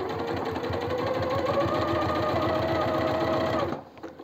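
Sewing machine stitching a silk blouse, a loud rapid even mechanical chatter running steadily for several seconds before stopping abruptly near the end.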